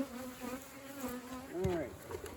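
Honey bees buzz around hive frames during a swarm catch and split, a steady close drone with a rising and falling whine as individual bees pass near.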